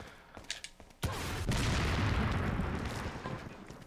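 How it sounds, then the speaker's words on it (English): Rocket launcher blasts in Resident Evil 4, a few sharp thuds followed by one loud booming explosion that rumbles and fades over several seconds, with no talk. "Oh, you got a freaking rocket launcher!"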